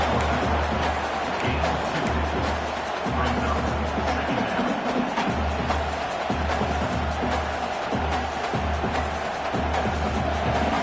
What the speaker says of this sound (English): this crowd coming to life here, trying to help the defense get a stop